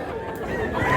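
Chickens at a busy rural livestock market in Mantalungon, Barili, Cebu, with a rooster crowing over steady crowd chatter and clucking, fairly close and continuous through the second.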